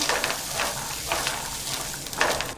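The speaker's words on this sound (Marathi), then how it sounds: "तेल गरम झालं ना का इथे मी अर्धा किलो फ्रेश मटार घेतलेले आहेत ते टाकून घेऊया दोन मिनटासाठी ना आपण छान असं ढवळून घेऊया" Half a kilo of fresh green peas fry in hot oil with a constant crackling sizzle, broken by several quick scraping bursts as they are stirred in the pan, close and fairly loud.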